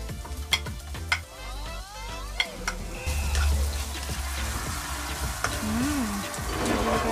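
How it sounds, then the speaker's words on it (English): Onions and garlic sauté in hot olive oil for an outdoor chicken adobo, with a continuous sizzle broken by sharp utensil clicks and scraping stirs against the pan. "we're gonna saute the onions and the garlic."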